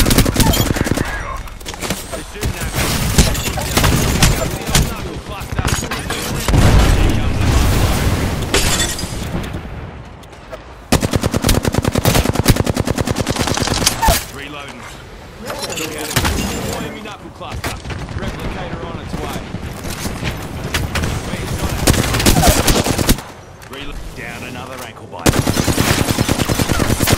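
Rapid automatic gunfire and bursts of shots from an Apex Legends firefight, loud and near, with sustained volleys broken by brief pauses; speech is mixed in over the shooting.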